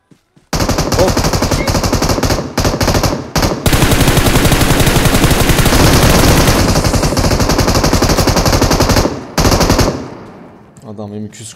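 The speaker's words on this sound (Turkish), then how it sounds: "Adam M249'da tarıyor" Sustained bursts of M249 light machine gun fire in PUBG Mobile, rapid close automatic shots rattling on for several seconds with brief gaps between bursts, then tapering off.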